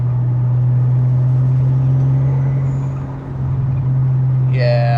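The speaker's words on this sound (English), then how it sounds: "You can just hear the turbo spool up." A factory Toyota 7M Supra turbo engine with an upgraded CT26 turbo pulls at about half throttle, a loud steady drone heard from close, with a higher whine rising near the end.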